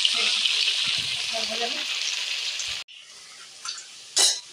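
Dudh puli dumplings fry lightly in a pan with a steady hiss and sizzle that cuts off abruptly, followed by quieter clinks and a brief stir.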